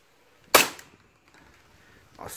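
A single sharp crack from a Tokarev SR-33 gas blowback airsoft pistol firing a 6mm BB through a chronograph, with a short decay, followed by a fainter mechanical sound near the end.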